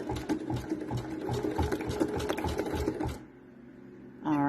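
Home embroidery machine stitching a design onto a poly school folder at slow speed, a close rhythmic mechanical chatter of needle strokes for about three seconds, then stopping into a quiet hum before a short whirring tone.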